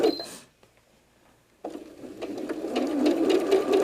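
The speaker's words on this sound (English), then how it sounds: "Go ahead and put that in your sewing machine" A sewing machine sewing a quarter-inch quilting seam whirs into a steady, rising mechanical hum after a short quiet stretch, close by and continuous.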